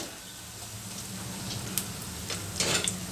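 Urad dal bondas fry in hot oil with a steady, close, hissing sizzle, broken by a few brighter crackles and splutters near the end.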